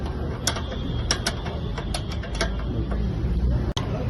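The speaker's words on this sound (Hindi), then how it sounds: "एक्सल का खोल रहे हैं।" Metallic clicks and ratcheting from a wrench loosening the 19 mm axle nut on an Activa scooter wheel during brake shoe cleaning, several sharp ticks spread over a steady low workshop hum, with one loud snap near the end.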